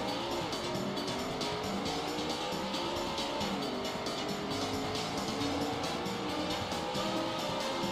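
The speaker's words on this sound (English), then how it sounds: "Start your engines" Race car engines roaring in the Daytona racing arcade game, a dense continuous whine of several cars with tire squeals and skids, loud and steady throughout with no talking.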